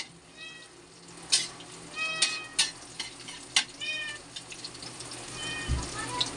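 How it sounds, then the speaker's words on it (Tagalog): A house cat meows several times in a small home kitchen beside the sink, short rising cries scattered over clinking and stirring sounds at moderate loudness. "Sumasabay na yung pusa ko."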